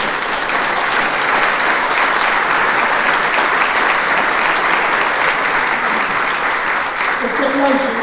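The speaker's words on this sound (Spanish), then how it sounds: "Este aplauso es para estos chavos que nos ponen el ejemplo de ir para ponerse y poner el bulto." A crowd at the Así Estamos Juárez 2023 report presentation in Juárez applauds steadily and densely for about eight seconds; near the end a voice begins to come through.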